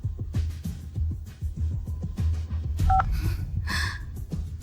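A phone number is dialed as a quick series of beeping keypad tones, close and clear, followed by a short ringing tone, with no talking.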